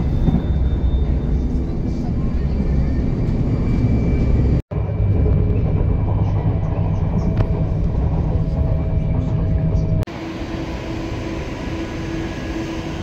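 An express rail train running through Kuala Lumpur gives a steady, loud rumble and hum inside the carriage, with a sharp break partway through and a slightly quieter, smoother tone in the last few seconds.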